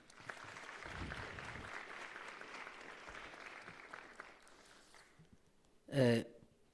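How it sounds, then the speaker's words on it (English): Audience applause for a minister at a learner-leadership summit, a broad, steady wash of many hands clapping for about five seconds that fades away, followed by a brief loud voiced burst. "Kindly give the minister a warm round of applause."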